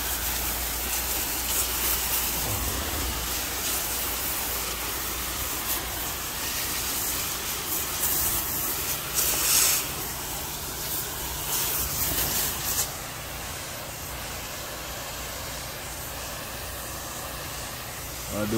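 Bleach sprayed onto a weathered wood fence outdoors: a steady, broad hissing spray runs nearly continuously and close to the microphone, with a brief louder burst partway through and constant outdoor background underneath.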